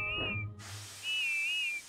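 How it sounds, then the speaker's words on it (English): Cartoon steam engine whistle, two bright wavering toots separated by a brief gap, the second longer, with a soft hiss of steam underneath. "Then at last she heard Whiff's funny whistle."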